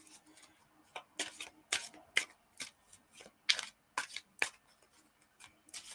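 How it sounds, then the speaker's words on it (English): A deck of playing cards is shuffled close by in a string of quick, crisp riffling bursts with short pauses between them, and no one talks. "I'm going to give these another shuffle."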